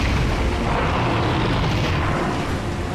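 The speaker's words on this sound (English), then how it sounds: "Alright, this is the special rocket launcher." A special rocket launcher blast from Resident Evil 4, a loud, dense boom that fills the space and rumbles on without a break, with no voices.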